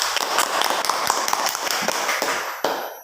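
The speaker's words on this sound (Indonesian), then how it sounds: "Tepuk tangan dulu untuk kelompok 2" A primary school class claps for a student group after their presentation in a classroom, giving a short burst of brisk, uneven hand claps lasting about three seconds.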